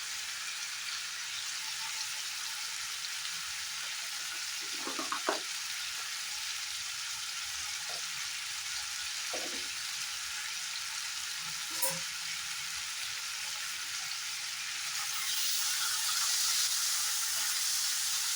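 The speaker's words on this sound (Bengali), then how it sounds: "এখন পেঁয়াজ আর টমেটোটা ভালো করে ফ্রাই করে নেব।" Onion and tomato frying in a pan for a chicken dish, giving a steady broad sizzle with a few stirring clinks and scrapes, brightening toward the end.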